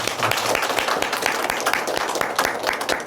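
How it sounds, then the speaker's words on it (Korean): A church congregation claps during a Korean Sunday afternoon worship service, with sharp, fairly rhythmic hand claps from many people repeating at a steady pace, close and lively, and no talk over it. "우리 다시 한번 하나님께 영광의 박수를 드립니다."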